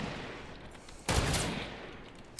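A single sniper rifle gunshot goes off in a video game, a sharp, loud crack with a short decaying tail over a low background hiss.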